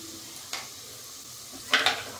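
Spices being stirred into potatoes frying in a pan: a faint, steady sizzle broken by two brief scraping stirs, the second louder and closer.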